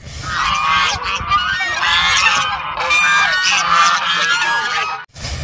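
A loud, continuous run of honking, squawking calls from a toy duck, close and harsh, ending with a brief pause.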